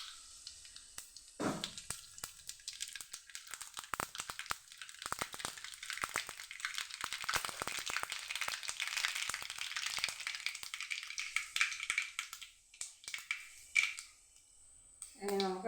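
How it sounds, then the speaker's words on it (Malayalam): Mustard seeds crackle and splutter in hot oil for tomato chutney, a dense continuous sizzling and popping that holds steady for most of the stretch, with a few sharper clicks near the start and end. "എണ്ണ ചൂടായി കടുക് ഇടാം."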